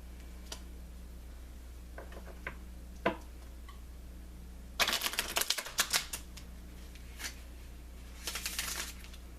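Bursts of tarot cards being shuffled, riffling and clicking close by, with scattered taps and quiet pauses between.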